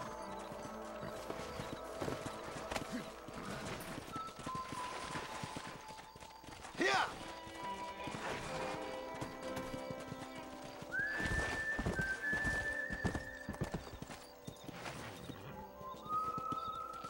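Horse hooves clip-clop in the Red Dead Redemption video game, a steady rhythmic trot with game music and occasional whinnies, while a player talks over it throughout.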